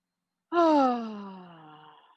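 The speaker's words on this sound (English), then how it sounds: "Nice big inhale, cleansing breath on the exhale." A single deep cleansing yoga exhale released outdoors as an audible voiced sigh, its tone sliding gently downward as the breath trails off over about a second and a half, heard alone.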